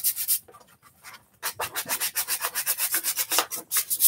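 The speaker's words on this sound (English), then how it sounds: "I have to wonder how bad the audio is with this fantastic scraping sound" Rhythmic scraping of sandpaper on a plastic Nerf blaster before painting, quick back-and-forth strokes close up, pausing briefly before resuming in a steady, even pattern.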